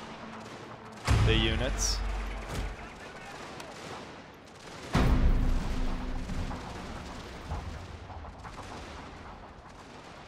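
Naval bombardment in a Prussian-era strategy war game: two heavy artillery blasts roughly four seconds apart, each a loud booming burst that rumbles and fades, with someone talking briefly between them.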